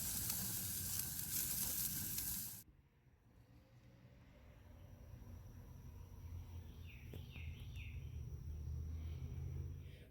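Peppers, zucchini and eggplant sizzle loudly while cooking for the first few seconds, then the sound drops off abruptly, leaving a quieter low rumble with faint chirps in the background.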